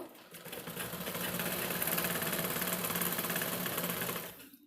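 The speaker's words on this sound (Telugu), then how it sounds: "నేనైతే నార్మల్ మిషన్ మీద చూపిస్తున్నాను ఫాల్ వేయడం ఏ మిషన్ మీద ఫాల్ ఈ విధంగానే వేయాలి" An ordinary domestic sewing machine stitching a fall onto a saree, running as a steady, close, rapid mechanical whir for a few seconds before it slows and stops.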